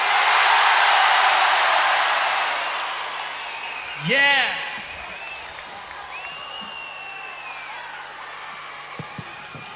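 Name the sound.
loud concert crowd cheering at Linkin Park show in Paris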